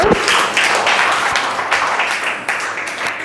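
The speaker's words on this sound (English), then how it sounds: "Very big round of applause for this girl" Participants at a hospital lactation-management training session give a girl a loud, close round of applause, a dense, continuous patter of many hands clapping.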